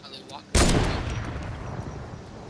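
Gunfire from AI enemies in the battle royale game Fortnite: a single loud, close shot or blast with a long rumbling decay, preceded by quieter game sounds.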